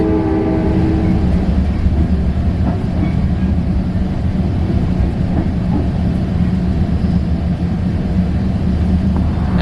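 A train rides south toward Lakewood station, with a loud, continuous rolling rumble and rattle of the cars that stays steady throughout, with no talking.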